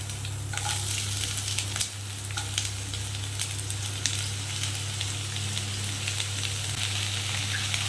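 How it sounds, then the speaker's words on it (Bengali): Chopped onion frying in hot oil, a steady close sizzle with occasional stirring clicks. "এবারে আমি এই যে পেঁয়াজটা কেটে রেখেছি এটা তেলের মধ্যে"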